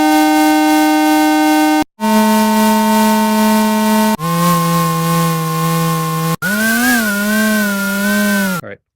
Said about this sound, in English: from train horn to chainsaw, where you can actually hear how the pitch descends as it tries to interpolate between these two sounds